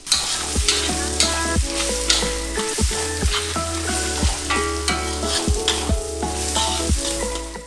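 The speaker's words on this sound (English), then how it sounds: "Put in the rice and cook it for around 1 minute." Rice stir-fries in a hot pan for pumpkin rice, with a constant loud sizzle and the regular scrape and clack of a utensil stirring against the pan.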